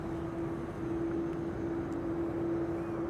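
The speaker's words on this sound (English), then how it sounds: "KLM Flight 1251, according to flight radar, has now turned onto the runway." A KLM airliner sits on the runway at Amsterdam Schiphol Airport, giving off a steady, distant engine drone with a constant tonal hum beneath a broad wash of noise.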